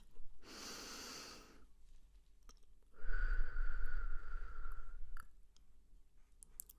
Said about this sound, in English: Nice deep breath for me.